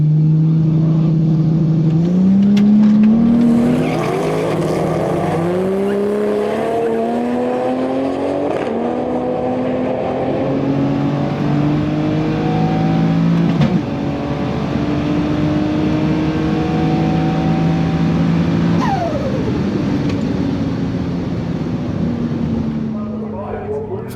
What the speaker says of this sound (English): The cars are about to go through their burnout procedure.